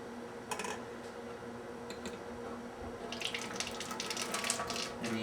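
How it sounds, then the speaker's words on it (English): Hot water pours into a whipped cream dispenser during cleaning, a soft continuous trickle and splash close by, with light clicks and clattering from handling the metal parts, fairly quiet overall. "start pouring some hot water in there."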